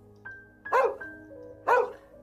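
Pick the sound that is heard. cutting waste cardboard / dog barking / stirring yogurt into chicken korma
dog barking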